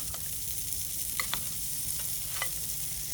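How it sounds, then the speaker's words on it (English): Bagged cabbage and pineapple being mixed into coleslaw in a bowl, giving a few soft, brief scraping and stirring sounds over a faint steady hiss, close up and without talk. "So let's just give this a quick mix."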